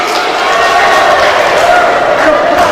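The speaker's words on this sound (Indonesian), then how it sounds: "Tepuk tangan dulu, tepuk tangan." Applause from an audience at a community gathering held at an Islamic boarding school in Makassar, a steady dense wash of many hands clapping, loud and continuous throughout with crowd noise mixed in.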